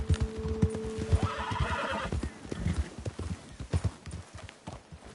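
In the video game Red Dead Redemption 2, hooves clatter rapidly in a galloping rhythm while a horse neighs, the pounding continuing unevenly as the horses slow.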